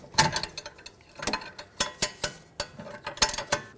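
A box end wrench works a bolt free on a rear brake caliper of a 2011-2014 Hyundai Sonata, giving a run of sharp, close metallic clicks and ratcheting ticks in uneven bursts, with no talking.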